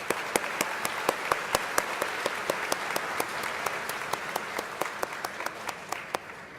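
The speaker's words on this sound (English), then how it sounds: "Another round of applause for those honorees." Applause from an awards ceremony crowd honoring life-saving award recipients, a fairly quiet bed of clapping with a few sharp, distinct claps standing out near the microphone in a regular pattern.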